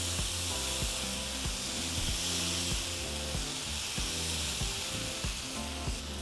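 Oaxaca cheese sizzles and fries on a comal over medium heat, a steady bright hiss with faint crackles, close and continuous, over a quiet background of sustained musical tones.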